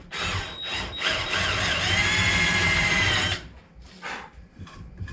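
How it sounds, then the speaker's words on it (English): Power drill boring a countersink for a screw head in wood during construction of a garage bed platform; a loud whirring grind runs for about three seconds, then brief softer bursts follow, close up. "if we want to demonstrate a countersink"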